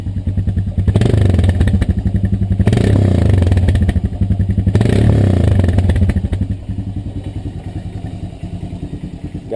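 A Honda Recon ATV engine revs loudly up close in repeated bursts, a rapid pulsing exhaust note with clattering, then settles back toward a lower idle.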